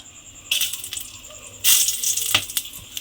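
Dried red chilli and whole garam masala tossed into hot oil in a pan, a few sharp clattering drops followed by bursts of crackling sizzle close by.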